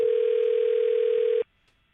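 A telephone line tone on a live radio morning show sounds as a single steady, loud electronic tone for about a second and a half, then cuts off abruptly to near silence.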